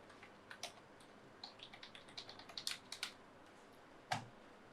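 Quiet keystrokes on a computer keyboard as a password is entered, a brief irregular run of light clicks that ends with one slightly louder tap, with no speech.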